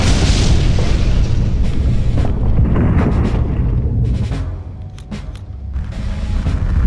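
Deep rumbling booms and explosions from the Earthquake spell in the video game Septerra Core fill the whole stretch, loud and dense, with crackling bursts layered over a continuous low roar.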